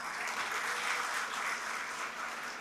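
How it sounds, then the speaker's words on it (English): Audience applause for a retail innovation panel at a business conference, a dense, even round of clapping heard from some distance, steady throughout with no voices over it. "Can you please give your panel a big round of applause?"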